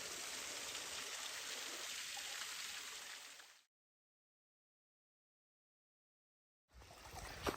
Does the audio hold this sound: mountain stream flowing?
yes